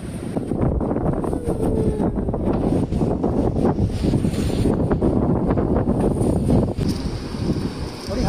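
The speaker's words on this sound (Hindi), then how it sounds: "थोड़ी हवा चल रही है लेकिन शानदार लग रहा है एकदम" Wind buffets the microphone at a riverside campsite near the Bhag River in Jispa, Himachal, a constant loud rumbling gust that continues throughout with no speech.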